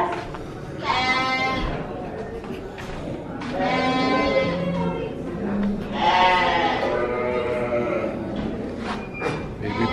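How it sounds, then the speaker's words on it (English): Sheep bleat loudly at a livestock sales barn, several drawn-out wavering calls overlapping one another across the stretch, close by, over a busy barn background. "sheep, more sheep."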